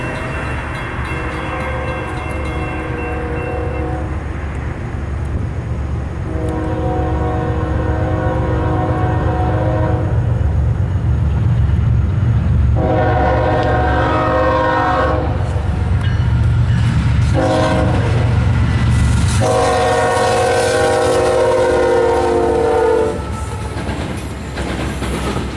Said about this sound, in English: this Norfolk Southern Intermodal train ran on through